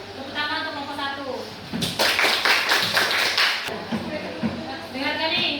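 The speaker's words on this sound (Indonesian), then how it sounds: "Tepuk tangan untuk nomor 1." A group of children claps for the first group's presentation in a classroom, a dense burst of applause lasting about two seconds, with children's voices before and after it.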